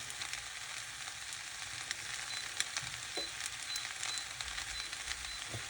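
Chicken fries in a pan for chicken in black bean sauce, a steady, loud sizzle and crackle with occasional small pops and stirring clinks throughout.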